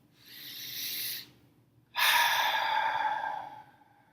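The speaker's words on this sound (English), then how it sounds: "Take a deep breath." A slow deep breath drawn in, a short pause, then a long airy exhale, soft and close with no talking.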